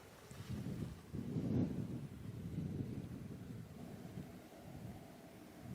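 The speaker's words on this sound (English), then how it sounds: "This wind in the shade is pretty cool" Wind blows on a mountain hike beside a lake in the shade, heard as a low, steady, rumbling buffet against the microphone, with gusts swelling and easing and no talk.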